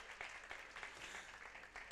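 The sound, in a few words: audience applause at a temple ceremony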